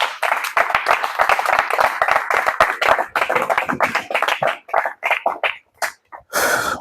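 A church congregation applauds during a Sunday worship service, a dense burst of clapping that thins into scattered, uneven claps and trails off before a final short flurry.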